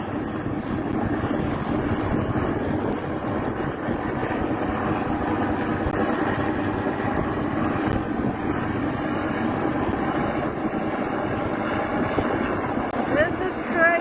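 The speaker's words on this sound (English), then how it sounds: "you can see the search and rescue helicopter removing one of the crew from on board the vessel" Search and rescue helicopter hovering over a yacht wrecked on rocks while a crew member is winched off: a constant, loud rotor and engine roar fills the scene, with voices talking over it.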